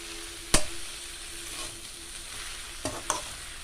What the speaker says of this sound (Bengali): গুড়টা এভাবে নাড়তে নাড়তে গুড়টা খুব সুন্দর করে গলে যাবে